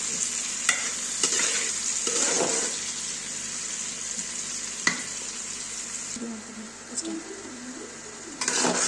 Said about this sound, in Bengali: দেখুন কষানো হয়ে আসছে আমার তরকারি